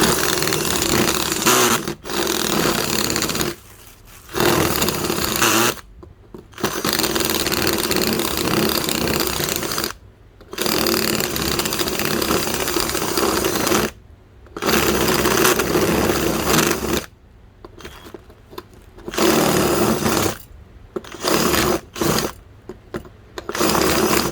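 A power drill whines in repeated bursts of several seconds each, separated by brief pauses, loud and close with no speech, drilling during repair of an electric fan.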